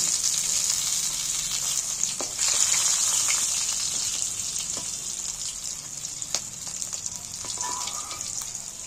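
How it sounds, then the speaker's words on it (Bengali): Fish and prawns sizzle and spatter in hot oil while being turned until red, a steady close-up frying hiss broken by occasional sharp pops and crackles. "বাকি মাছগুলো তেলের মধ্যে তুলে দিয়ে উল্টে পাল্টে মাছগুলো একদম লাল লাল করে ভেজে নিই।"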